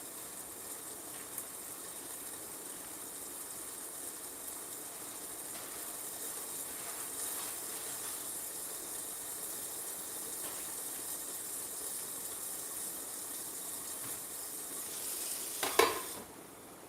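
Chicken burgers cooking in a hot pan give off a steady, low hiss of sizzling and steam that runs throughout, with a brief louder clatter or spatter near the end.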